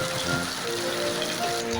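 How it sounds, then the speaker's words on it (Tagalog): Steady rain falls throughout, a continuous dense hiss on a surface with faint background tones mixed in, close and even in level. "Umuulan na nga"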